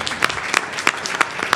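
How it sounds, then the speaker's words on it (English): Applause at a board of education meeting, a few loud, close, evenly spaced claps standing out over a soft, diffuse patter of other hands. "can we give a round of applause for Nicole Schoenfeld?"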